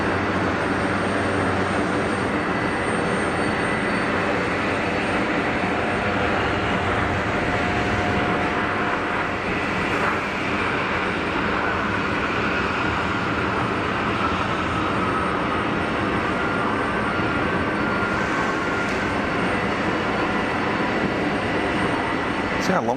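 An EasyJet airliner rolls down the runway after landing at Geneva Airport, giving a continuous, fairly loud rumbling jet roar that stays even from start to finish.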